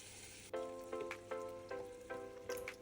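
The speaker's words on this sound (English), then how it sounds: "You heat that up a bit as well, you stir." Roughly blended pepper and onion frying in palm oil: a steady, close sizzle with repeated scraping stirs at a regular pace, about every half second.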